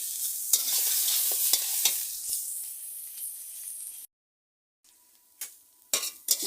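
Banana stem stir-fried with grated coconut and green chillies gives a loud, steady sizzling hiss broken by scraping stirs. It cuts to silence, then a few close clinks and clatters of the pan follow.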